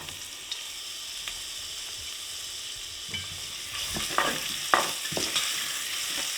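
Sliced onion goes into a pan with rendered bacon fat and fries with a steady hiss, joined by scattered crackles and the scrape of stirring that grow busier toward the end, near and fairly quiet with no voices.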